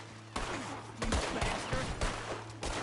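Gunshots in the Western game Red Dead Redemption, several sharp separate cracks spaced about half a second apart over a low steady hum, loud and close.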